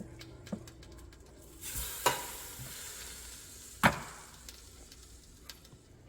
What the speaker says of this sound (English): marinated beef. And you can hear the sizzle